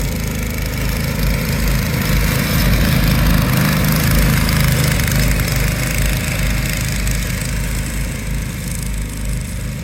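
A go-kart engine runs loud and close during a drag race, a continuous rough, vibrating drone holding steady throughout.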